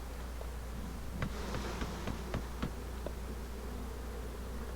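Honeybees buzzing around an opened hive during a varroa mite test, a soft continuous hum with a few brief louder buzzes as individual bees pass close, faint and steady.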